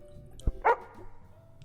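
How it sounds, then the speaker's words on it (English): Police K9 dog in a video game gives a few sharp barks, one low thump followed by a louder mid-pitched yelp-like bark, close and brief over quiet game ambience. "No, you barked at all of them."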